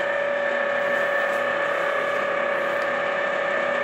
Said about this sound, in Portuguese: Barulho da geladeira.